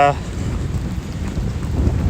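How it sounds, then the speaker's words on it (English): Rain driven by strong wind buffets the microphone outdoors at Disney's Boardwalk Resort, a steady loud rumbling roar with gusty low-end noise throughout. "this rain, which is now blowing into my face"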